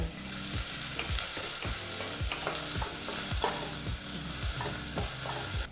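Finely chopped onion frying in hot oil over a medium flame, a bright continuous sizzle with a regular rhythmic thud of stirring roughly every half second, close and without talk.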